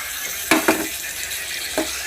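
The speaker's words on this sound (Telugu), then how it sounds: "ఈ వట్టి చేపలు వేసుకుందాం." Dried fish frying with browned onions and turmeric in a pan gives a steady close sizzle, broken by three short scraping stirs of a spoon.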